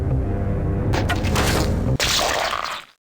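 Pirate cue music from the Muppet Treasure Island video game, a dense, loud musical passage with a sharp cut partway through before it swells again and fades out.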